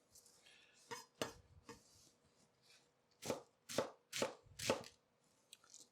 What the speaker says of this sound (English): I'm going to cut this into some wedges. I'm just going to chop right at it, just like that.